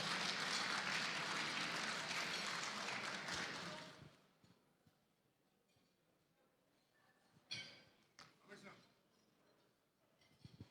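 A gala audience at a virtual awards ceremony applauds the IPMA president with dense, broadband clapping for about four seconds. It then cuts off abruptly, leaving quiet room sound and a few faint knocks.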